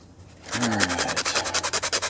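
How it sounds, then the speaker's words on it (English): Sandpaper scrubs rust off metal tiller parts in a quick series of rhythmic back-and-forth strokes, close up and moderately loud, starting after a brief quiet moment. "Let me get some sandpaper and we'll clean all this stuff off."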